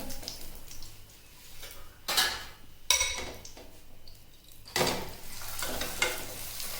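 A semolina cheese paratha fries on a griddle over low heat, with a steady faint sizzle broken by several sharper scraping and stirring bursts as it is pressed and turned.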